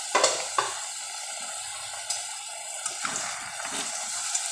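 Pointed gourd (potol) curry bubbling and gently sizzling in a pan on low heat as the gravy thickens, with a few soft stirring scrapes and clinks over a steady close hiss, no voices.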